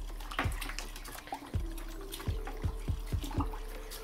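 Water drips and splashes into a bucket from a squeezed aquarium filter sponge, a series of irregular plopping drops over a low steady hum, quiet and with no talk.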